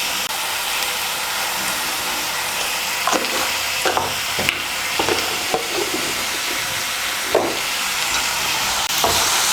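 Radish greens with bori lentil dumplings sizzle and hiss steadily in a pan as turmeric and chili powder are stirred in, with repeated scraping strokes of the spoon over the constant frying noise and no talking.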